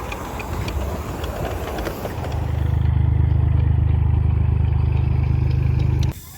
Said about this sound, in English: there is a miniature steam railway in this park